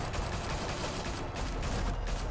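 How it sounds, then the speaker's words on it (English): Dense burst of automatic gunfire from a shootout in Batman: The Telltale Series, a continuous volley of overlapping shots at steady loudness throughout, with no break in the firing. "Open fire!"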